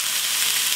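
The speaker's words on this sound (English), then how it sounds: "Bacon looks amazing. Look at that lovely crispy bacon." Bacon frying until crispy, a brief steady hiss of sizzling fat, close and even with no voices.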